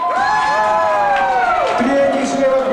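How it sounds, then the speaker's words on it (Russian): Children and adults in an audience at a New Year's evening fairy-tale show in Narva cheer and shout together in a loud, continuous burst of overlapping voices with some clapping. "Аплодисменты!"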